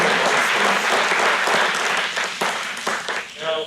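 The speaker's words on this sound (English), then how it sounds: "So a big round of applause for all the committers in Apache." Loud, dense applause fills a conference hall at a PhoneGap Day closing session honoring Apache committers, sustained throughout and tapering slightly near the end, with a voice faintly audible under the clapping.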